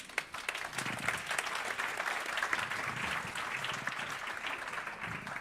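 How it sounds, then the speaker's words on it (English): Steady applause from an audience at a European cities event, a dense, even wash of clapping that holds at full strength for about five seconds with faint murmuring underneath. "Big applause."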